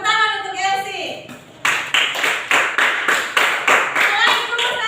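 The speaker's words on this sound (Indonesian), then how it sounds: "Tepuk tangan untuk Elsie." Classroom hand clapping during a primary school maths lesson, about ten sharp claps in a steady rhythm following a teacher's speech, loud and close.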